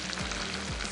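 Onions and tomatoes fry in a pan with a steady, close sizzle and crackle that runs through the whole second, with a couple of brief stirring scrapes.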